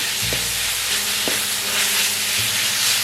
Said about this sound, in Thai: ลงไปคั่วอีกรอบหนึ่งนะ